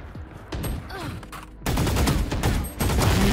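Valorant gunfire crackles in a competitive match, dense rapid shots layered over game effects and background noise, loud and close, with a voice briefly speaking.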